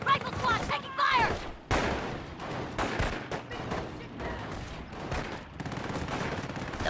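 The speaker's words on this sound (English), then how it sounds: "Rifle squad taking fire!" Bursts of rifle and machine-gun fire rattle around a rifle squad in Company of Heroes, loud irregular volleys with short pauses between them, mixed with game voices.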